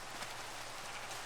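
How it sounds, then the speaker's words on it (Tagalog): Rain in the Minecraft video game, a steady even hiss of falling rain with no breaks, soft and continuous with no other sounds. "umuulan"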